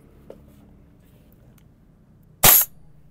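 A gas airsoft gun firing a single close, loud, sharp shot after a quiet stretch with only a faint small tap early on.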